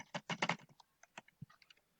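Keys clack on a computer keyboard during data entry into a database form: a quick burst of close, crisp keystrokes, then sparser single taps trailing off in a quiet room.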